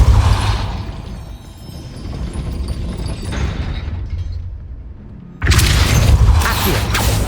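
Mechanism grinding and shifting in Hogwarts Legacy as the Depulso spell pushes it, a long low creaking rumble that fades, then a sudden louder clattering burst near the end.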